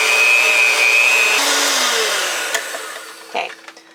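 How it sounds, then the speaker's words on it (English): An electric hand mixer whirs steadily while beating a smoky cheddar cream cheese ball mixture, then winds down and stops partway through, leaving faint bowl clatter and a few small knocks. "now we're done with the mixer"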